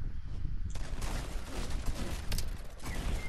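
Rapid bursts of gunfire in the Fortnite video game, including an elite pistol, crackle loudly and continuously through the whole stretch with dense overlapping shots and a busy game background.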